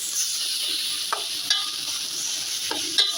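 Kurya greens fry in a pan with onion and garlic, giving a steady, close sizzle broken by a few brief scraping stirs of the spatula.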